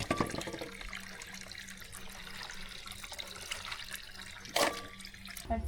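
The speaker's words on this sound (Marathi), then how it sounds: "आता ह्या टोपात हे गरे घेऊन आता स्वच्छ आपल्याला धुवून घ्यायचे" Jackfruit pieces are washed in water in a pot, with continuous splashing and swishing, sloshing near and fairly steady, and a sharper splash toward the end.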